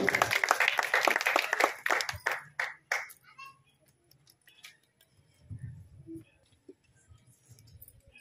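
Applause from an audience at a Kosli-language poetry gathering in Phalsa Gora, Boudh, with dense clapping for about three seconds that tapers into scattered claps, then low murmuring.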